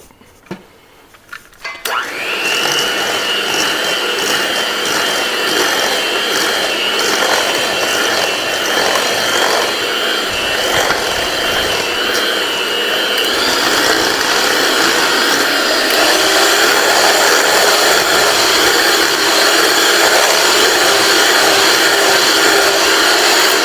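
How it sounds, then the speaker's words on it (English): Electric five-speed hand mixer beating butter for cookie dough starts after a brief quiet moment, then runs as a loud, steady motor whine with a rattling hum that rises slightly partway through. "I love this mixer. This mixer with the 5 different speeds works really well."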